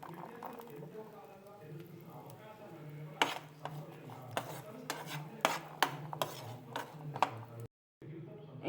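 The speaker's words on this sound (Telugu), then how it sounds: "కొబ్బరి కూడా ఫ్రై చేసుకోవాలి." Coconut frying with garlic and cumin in a pan for a tomato coconut chutney, stirred with a metal spoon in a quick run of light scraping clinks and taps over a soft background of voices.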